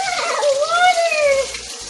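Water runs steadily from a household tap with a close, continuous rushing hiss, overlaid by a wavering, squealing whine that rises and falls through the middle of the sound.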